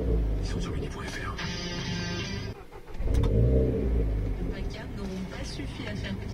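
A Renault Clio 4 RS engine fires up and settles into a running idle, with a rev rise partway through, while someone talks over it nearby.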